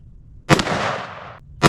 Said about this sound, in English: And I'm gonna shoot 3 more shots.